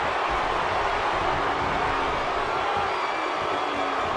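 A packed wrestling arena crowd roars and cheers in a continuous, loud wash of noise, with faint voices mixed in.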